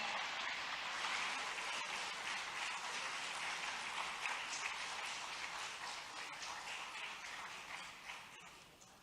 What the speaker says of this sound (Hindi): कृपया करतल ध्वनि के साथ स्वागत कीजिए माननीय मुख्यमंत्री मध्य प्रदेश शासन डॉक्टर मोहन यादव जी का